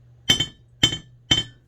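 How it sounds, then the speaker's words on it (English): Three sharp metallic hammer strikes peening a straight razor, spaced about half a second apart, each ringing briefly with a bright clink over a low steady hum. "let the weight of the hammer do the work."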